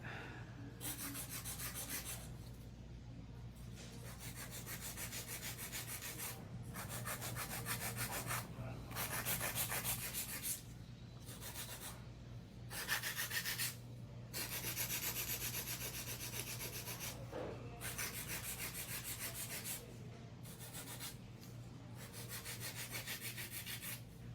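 Acrylic nails being filed with a hand nail file in a nail salon, a steady scratchy rubbing in repeated strokes with short pauses between passes, close and fairly quiet, with no talking.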